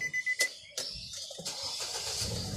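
A used car is started with a remote key: a few short electronic beeps, then the engine cranks and catches into a steady idle, close by.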